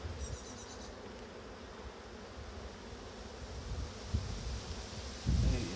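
Honeybees buzz steadily around a hive drawing comb on new wax foundation, a dense droning hum with a few brief knocks and rustles near the end.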